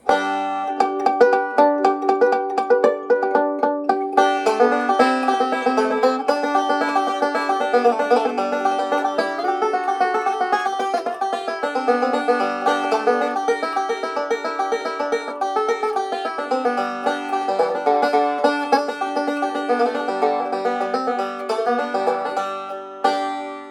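A bright plucked-string banjo solo played alone, with a fast continuous stream of picked notes ringing steadily throughout.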